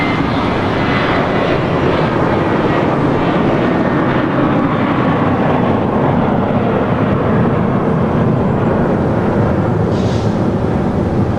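A Delta jet takes off from runway 24 left at Los Angeles International Airport, a loud sustained engine roar with a broad rumbling wash that stays constant and close for the whole stretch.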